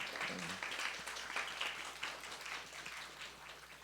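A church congregation claps during Sunday worship, a faint, steady patter of applause lasting a few seconds.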